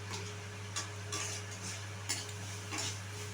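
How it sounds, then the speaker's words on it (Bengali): Boiled dal with red chilli powder being stirred in a pot, light scraping and clinking of a spoon repeating every half second or so over a low steady hum, no talking. "ভালো করে একটু মিশিয়ে নিচ্ছি"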